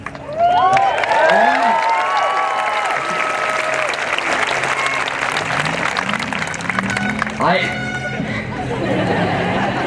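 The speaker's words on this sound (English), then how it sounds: "They're cheering for us too." A large crowd at the 2016 PCHS class graduation ceremony cheers and applauds loudly and steadily, with whoops, shouts and chatter mixed into the sustained clapping throughout.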